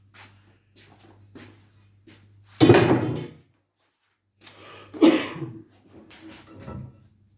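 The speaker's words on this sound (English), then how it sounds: "I have to excuse my cough." Two loud, rough coughs from a person who is unwell, the first sharper and the second a couple of seconds later, heard close amid quiet background with faint shuffling.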